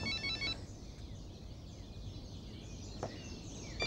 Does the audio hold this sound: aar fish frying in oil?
no